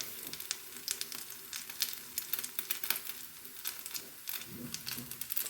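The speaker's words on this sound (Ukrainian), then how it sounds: "Маленько хай смажиться" Potato pancakes with meat filling sizzle and crackle in a hot pan, with irregular pops and spatters over a steady frying hiss.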